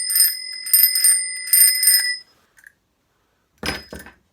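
Repeated rings of a small bicycle bell in quick bursts, several trills close together, then a pause and a couple of clinks near the end.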